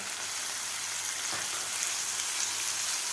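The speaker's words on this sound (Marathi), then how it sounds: "टमॅटोसुद्धा आपल्याला थोडंसं फ्राय करायचं आहे जास्त फ्राय करायचं नाही" Chopped tomatoes sizzling in a hot pan of masala for sweet corn poha, a steady, close hiss of frying with no breaks and no talking.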